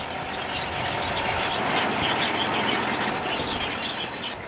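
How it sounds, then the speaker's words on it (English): A vintage Catchpole Cadet side elevator sugar beet harvester from 1960 working, with a steady broadband mechanical rumble and clatter that holds constant and moderately loud throughout. "Catchpole launched the extremely successful Cadet side elevator harvester"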